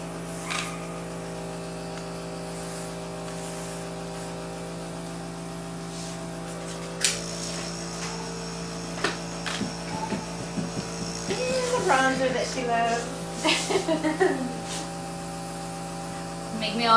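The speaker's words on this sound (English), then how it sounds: "I'm doing it with the Temp 2 airbrush" A Temptu airbrush sprays contour makeup, a faint steady hiss under a constant electrical hum from its compressor, with soft clicks and bursts of activity later on.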